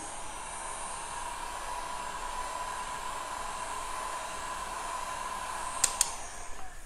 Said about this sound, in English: I'm gonna hit this again with my heat gun